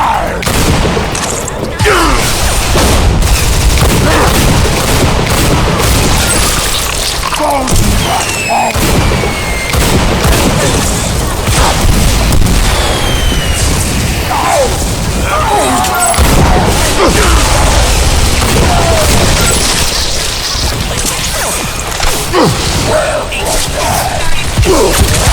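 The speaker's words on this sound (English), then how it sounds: "Gunfire has no effect!" Heavy gunfire and explosions from the shooter video game Bulletstorm form a dense, loud, continuous barrage of bursts and booms that runs the full length without a break.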